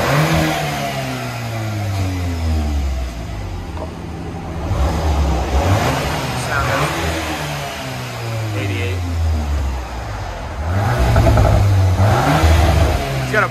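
A 2022 Volkswagen Golf R turbo with its stock exhaust revs repeatedly, each rise in engine pitch climbing and falling back in loud bursts close by, with brief idle between pulls.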